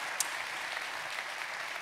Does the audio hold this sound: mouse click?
no